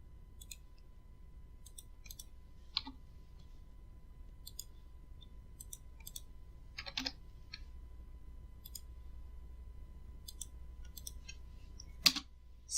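Computer keyboard and mouse clicks while working in StyleCad pattern-drafting software, scattered sharp clicks spaced a few seconds apart over a steady low hum, with a louder double click near the end.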